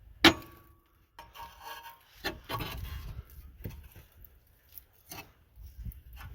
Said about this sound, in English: Hit the lower control arm with a hammer.